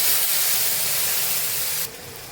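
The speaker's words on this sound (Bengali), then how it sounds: "এবারে দিয়ে দেব কাঁচা লঙ্কা আর আদা পেস্টটা" Green chili and ginger paste sizzling in a pan, a loud, steady, close hiss that drops off sharply near the end.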